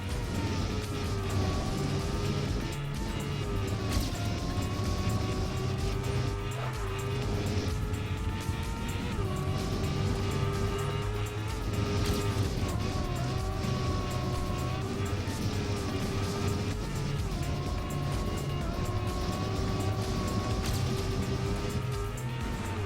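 In a racing video game, a car's engine drones steadily around a race track, its pitch sliding up and down as it accelerates and brakes through corners, continuous and moderately loud throughout.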